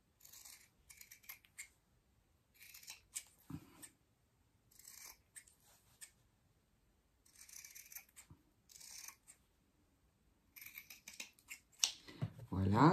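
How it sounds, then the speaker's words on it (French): Scissors snipping the corners of fabric for a children's cloth drawing book, short crisp cuts in scattered clusters, close and fairly quiet, with pauses between bursts and a rustle of handling at the end. "Je vais couper mes coins"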